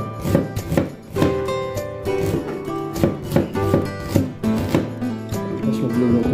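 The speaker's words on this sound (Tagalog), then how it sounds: "Bali, ito lang ang hiwain natin. Sibuyas at bawang." Knife chopping onion and garlic on a board, a steady run of quick, close, loud blade strikes with background music or a voice running underneath.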